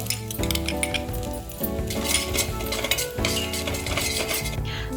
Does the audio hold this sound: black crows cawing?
no